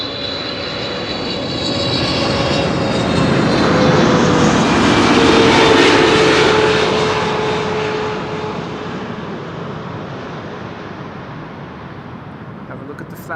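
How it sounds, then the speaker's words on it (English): The jet engines of a Boeing 777-300 pass at Amsterdam Schiphol Airport. Their roar swells to a loud peak, and a high whine sweeps downward before fading. A voice talks over the engine noise. "Oh, 777-300."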